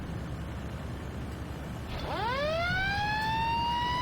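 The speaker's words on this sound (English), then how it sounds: "Now this does have a pretty cool engine siren sound" A fire engine siren in a fire rescue video game winds up about halfway through, its wail climbing steeply and then holding high and loud over a steady engine rumble.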